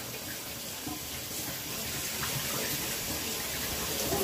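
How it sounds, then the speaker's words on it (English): Tap water runs steadily into a kitchen sink during a quick hand wash while baking Dutch oven bread, a continuous close splashing hiss that holds even throughout. "you get that wonderful ASMR of water at a sink"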